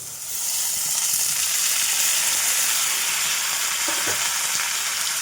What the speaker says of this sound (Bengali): মোচাটা দিয়েও ভাজবো